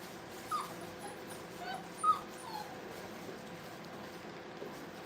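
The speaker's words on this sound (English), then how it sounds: "Woo, 14 puppies." Six-week-old puppies in a kennel, fourteen in the litter, give a few faint, brief whimpers and yips over a steady low background hum, with quiet gaps between the short cries.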